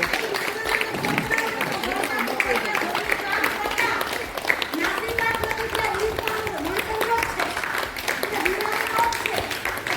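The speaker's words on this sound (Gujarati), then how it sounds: "બધાને અમે તાળીઓના ગડગડાટથી વધાવ્યા છે." Women participants at a 15 August Independence Day celebration held by a Patel women's association are greeted with continuous clapping from a crowd, heard close by and mixed with voices talking throughout.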